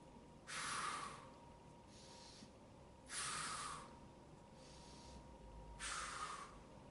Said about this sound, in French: Donc j'inspire et j'expire.